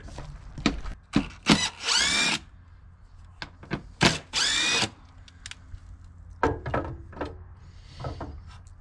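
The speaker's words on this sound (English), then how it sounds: "And then we'll drill 2 holes here, and we'll drill 3 holes across the top." Several short bursts of a power drill whining up as it bites into a board, separated by pauses with quiet handling knocks, close and moderately loud.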